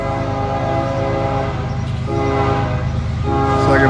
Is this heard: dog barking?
no